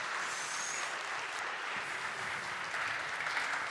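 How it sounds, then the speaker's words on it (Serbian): An audience at a marketing talk applauds continuously, a dense, even wash of clapping from a mid-sized crowd lasting several seconds with no speech over it. "Ajmo jedan glasniji aplauz"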